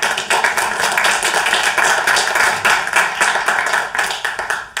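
An audience applauds at a local history talk about undertakers, dense steady clapping from many hands filling the room and fading slightly toward the end.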